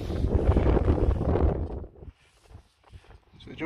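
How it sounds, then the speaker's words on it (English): Wind blows across the microphone in a stubble field on a UK farm during metal detecting, a loud rumbling buffet for about two seconds that then drops to faint gusts and near quiet. "I have to excuse the wind"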